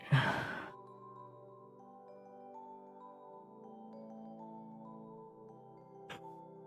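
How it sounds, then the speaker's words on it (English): A person yawns close by: a breathy, drawn-out exhale at the start fading into a quiet sustained tone, with a faint brief noise near the end. "Ooh, I'm yawning again."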